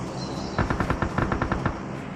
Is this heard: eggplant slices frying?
no